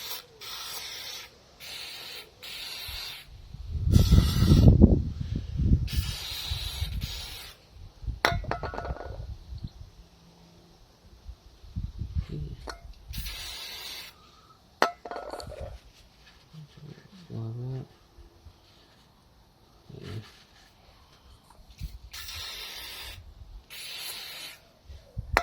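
Short bursts of aerosol spray hiss in several separate blasts onto the front brake of a Honda VFR 800 motorcycle during servicing, with clinks and rubbing between them and the occasional nearby voice.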